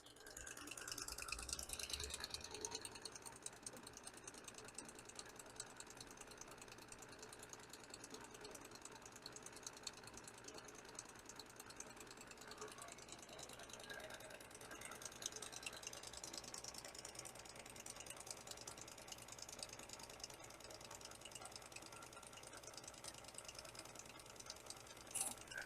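A saw blade gummer's flat belt drive runs steadily over a pulley, a faint continuous rattling whir with fine flapping texture and no talking.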